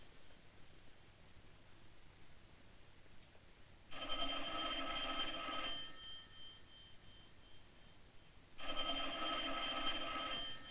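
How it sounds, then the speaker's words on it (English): An old telephone bell rings in two long bursts, each lasting about two seconds, bright and fairly loud over a faint hissy background, in a 1946 film. "Answer the phone."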